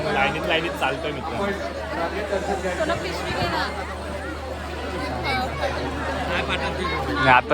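A dense crowd at the Bhandup village fair makes a steady babble of many overlapping voices, close and fairly loud, with nearby chatter throughout.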